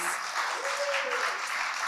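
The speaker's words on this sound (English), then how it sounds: "I'd like a round of applause for our speakers" An audience at a women's MPN patient event in New York applauds its speakers, a full, even patter of many hands with a brief voice rising faintly through the clapping.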